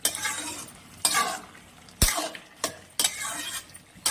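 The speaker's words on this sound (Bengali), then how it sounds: "এবার ভালো করে নাড়াচাড়া করে নিব।" Bottle gourd is stirred in a cooking pan, giving a rhythmic series of scraping, clattering strokes about once a second over a soft sizzle, close and fairly loud.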